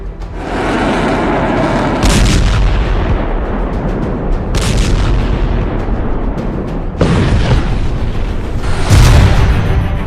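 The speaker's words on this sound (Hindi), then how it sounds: "इजराइल के 4 इलाकों पर हमला, क्या रहे ईरानी मिसाइलों का कोहराम।" Iranian missile strikes exploding in a loud, continuous roar of blasts, with sharp bursts standing out near the start, the middle and toward the end, no speech over it.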